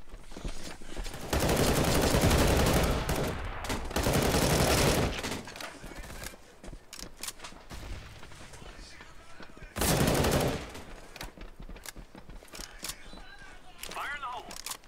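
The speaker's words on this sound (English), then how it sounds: "The heavy's got like an LMG or something." Bursts of automatic light machine gun fire in a first-person shooter, loud and dense in two main stretches, with scattered shots and voices talking over the game audio in between.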